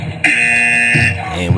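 A loud electronic buzzer sounds once, a flat sustained tone of just under a second that cuts in sharply and then stops, during a live online debate-tournament show.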